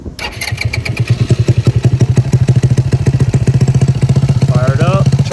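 A Honda Ruckus scooter engine idles close by with a steady, rapid pulsing putter, loud and continuous, a brief voice-like tone rising near the end.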